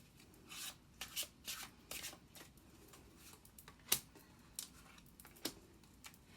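Tarot cards from an 8th House deck are shuffled by hand, giving soft, irregular papery riffles and rubbing bursts with a few sharper snaps, close by and with no talking.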